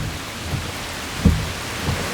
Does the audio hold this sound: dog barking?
no